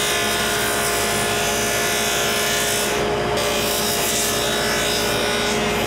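A power tool cuts wood for a kids' table, a loud continuous whirring and rasping hum that holds steady for several seconds before cutting off abruptly at the end.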